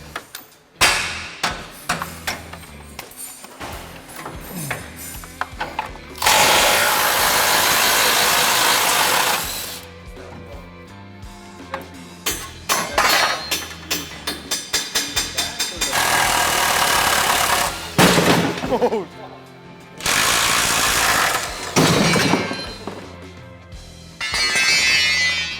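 Hammering to pound a part out of a 1971 Chevy C10 truck: a quick run of sharp metallic strikes amid bursts of loud, hissing tool and shop noise, with people talking in between.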